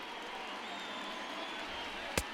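A stadium crowd of over 38,000 roars steadily in MLB The Show 20, a broad, moderately distant wash of cheering with a single sharp knock near the end.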